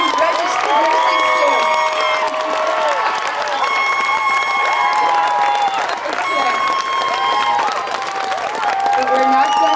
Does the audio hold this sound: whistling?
no